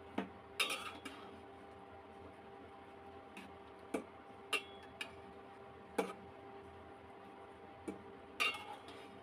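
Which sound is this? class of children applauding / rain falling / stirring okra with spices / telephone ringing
stirring okra with spices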